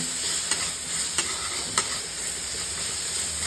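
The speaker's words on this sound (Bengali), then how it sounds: "অলমোস্ট এটা স্টার ফ্রাই হয়ে গেছে" Hakka noodles being stir-fried in a pan, with a continuous bright sizzle. A few sharp scrapes or knocks of the utensil against the pan stand out above the steady frying, and no one speaks.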